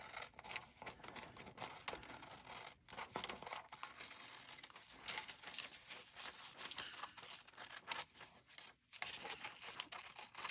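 Scissors cutting along the edge of a paper collage page for a glue book: continuous close, faint snipping and rustling paper crinkles over about ten seconds with brief pauses.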